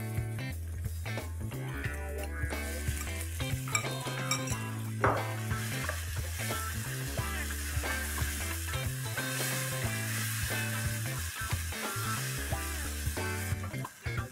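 Three finely chopped tomatoes go into a hot frying pan for Indian street-food ragda patties, giving a steady, busy sizzle with scraping stirs and light clinks throughout.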